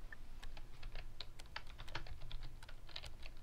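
Rapid keyboard typing from the chat game Emily Is Away, a steady run of crisp clicks over a low hum, close and fairly quiet with no talking.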